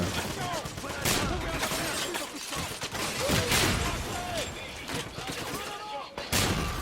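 Gunfire in the video game Wolfenstein (2009) as the player shoots at a barrel: rapid bursts of shots with mechanical clatter, mixed with game sounds and some voice.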